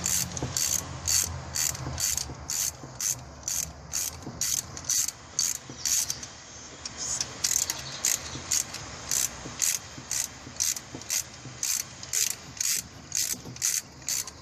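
A hand ratchet removes bolts during an engine valve stem oil seal replacement, giving a steady run of sharp, close clicks in quick regular bursts with brief pauses, alone without talk.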